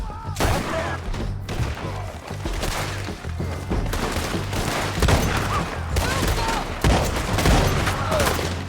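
Gunfire in the video game Red Dead Redemption 2, loud repeated shots in dense volleys with crashing impacts, close and continuous, with a few shouted voices mixed in.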